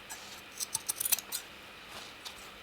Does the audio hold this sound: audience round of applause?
no